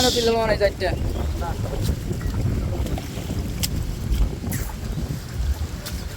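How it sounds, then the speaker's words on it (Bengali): Evening wind at a village pond buffets the microphone in a low, rumbling roar, with faint splashes and a voice briefly audible at the start. "বিকেলবেলা মিষ্টি ওয়েদার এবং কি বাতাস।"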